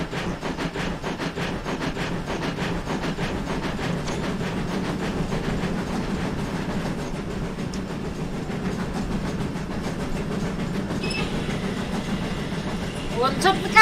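GWR 8000 train running in Train Simulator 2021 on the West Somerset Railway, a steady rumbling roll with rhythmic clickety-clack and engine drone under occasional faint talk.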